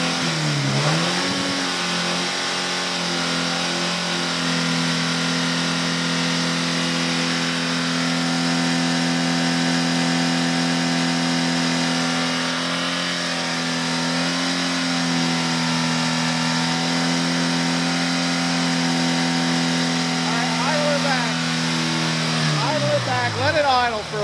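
A car engine climbs from a low rev to a high, sustained hold near 5,000 rpm, a loud steady droning whine with strong harmonics that drops back at the end, with voices faintly beneath.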